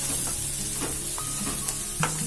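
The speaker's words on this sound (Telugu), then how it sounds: "అన్నీ బాగా మిక్స్ చేసుకొని" Spicy chicken fries with salt in a pan as it is stirred and mixed, a dense continuous sizzle broken by repeated scraping strokes and light clanks of the spoon, close and fairly loud.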